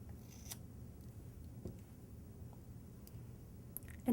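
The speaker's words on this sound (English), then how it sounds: "I can just trim it off with my scissors" A few quiet, sharp snips of scissors trim soft wool roving during needle felting, spaced irregularly against a faint low background.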